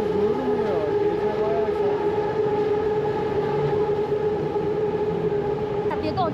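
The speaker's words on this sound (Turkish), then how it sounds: "Metroya bak abi, durmuyor." A metro train runs past a station at night without stopping, giving a loud, steady rumble with high wheel squeal and whining tones that continue throughout.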